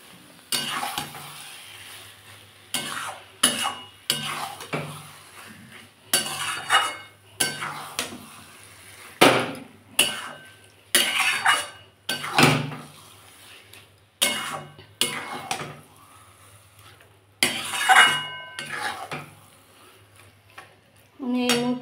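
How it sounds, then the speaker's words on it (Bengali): Mashed cauliflower stirred and fried in a pan on a gas flame, with repeated scraping strokes of a spoon against the pan coming in irregular bursts over a soft sizzle, close and fairly quiet. "একটু সময় ধরে বন্ধুরা ভাজতে হবে"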